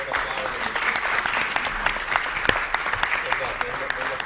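Steady applause from an audience at an official coin-minting ceremony for Expo Milano 2015 honours engraver Laura Cretara, dense clapping filling the room at moderate loudness without a break.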